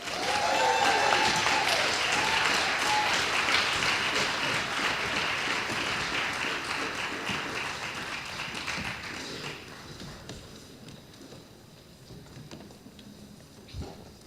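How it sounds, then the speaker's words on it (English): Audience applause at a children's stage show, a loud, dense burst of clapping from a crowd that gradually thins and fades out over the clip, with a few scattered claps near the end. "Let us bring these children to the stage with a big round of applause"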